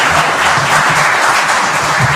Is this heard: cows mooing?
no